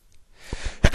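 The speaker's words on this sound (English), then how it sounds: "The sneezes." A single sneeze bursts out loudly near the end, preceded by a short sharp intake of breath, all in an otherwise quiet room.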